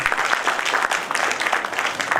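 An audience at a film festival claps in a dense, continuous burst of applause, close and steady across a brief stretch, with a faint murmur of voices beneath it.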